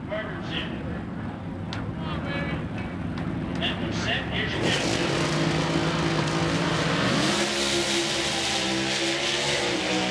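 A Pro Stock truck and a nostalgia dragster drag racing at Pomona, a loud continuous engine roar that swells and shifts pitch as they accelerate, with an announcer talking over it.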